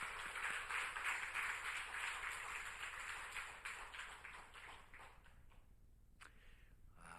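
A church congregation gathered for a Sunday morning service claps together, a dense, even wash of many hands that holds steadily, then thins out and fades to scattered claps near the end.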